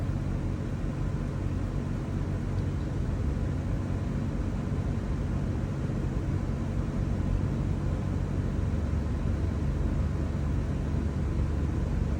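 Engine of a 2003 Chevy Suburban idling and revving under throttle, a steady loud low rumble with broadband roar that holds constant throughout, no talking.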